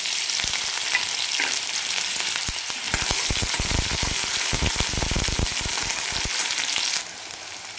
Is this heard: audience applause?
no